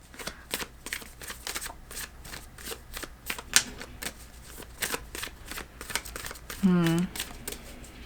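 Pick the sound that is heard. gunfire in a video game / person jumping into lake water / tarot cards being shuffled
tarot cards being shuffled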